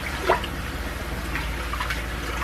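Water poured into the base of a rice cooker fitted with a steamer, a light trickling and dripping that runs steadily for a couple of seconds, close by and fairly soft.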